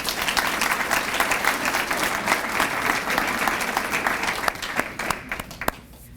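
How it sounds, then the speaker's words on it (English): An awards ceremony audience applauds, dense clapping from many hands filling the room steadily before thinning out to a few scattered claps at the end. "A big round of applause for Bridget Day."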